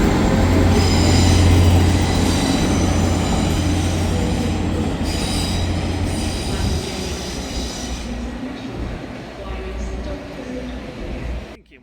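Train pulling out of Manchester Piccadilly station, loud rumble and rolling wheel noise with high metallic squeal and rattling, gradually fading toward the end.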